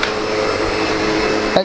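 The motor of a SEBO Automatic X7 Boost ePower vacuum cleaner runs, a steady close whine held for the whole moment, with a brief knock just before it ends.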